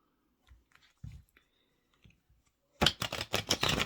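Tarot cards being shuffled, starting with a few faint taps and rustles, then a dense, crisp burst of riffling card flutter over the last second.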